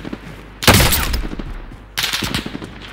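Call of Duty Warzone gunfire: two loud, close bursts of rapid automatic shots, the first running about a second and a half, then a short pause before the second burst, with no talking.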